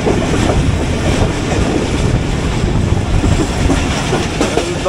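The Shalimar Express runs along the rails in Pakistan, heard as a loud, steady rumble with clattering wheel beats and carriage rattle throughout.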